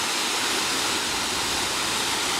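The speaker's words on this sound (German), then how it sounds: "auch hier in der Trockenzeit eben ein kleiner Wasserfall." A small waterfall in the dry season pours with a steady, dense rushing roar that stays close and constant throughout, with no voices over it.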